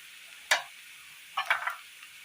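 Onion with coriander powder and chili powder frying for a Kerala-style curry, a sharp scrape of the spoon followed later by a cluster of stirring strokes over a faint background sizzle.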